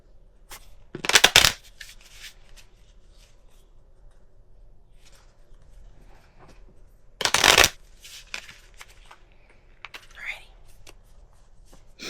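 Two quick bursts of a deck of tarot cards being riffle-shuffled, several seconds apart, with soft rustling and handling noises in between.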